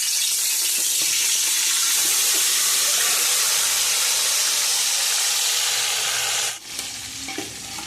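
Chicken pieces dropped into hot oil left from frying onions for dum biryani, a loud, steady sizzle and crackle that runs for about six seconds before easing into softer bubbling.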